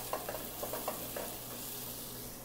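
Chili peppers and bell pepper sauté in a pan for a red sauce, giving a soft, steady sizzle with a few light stirring clicks, quiet and close.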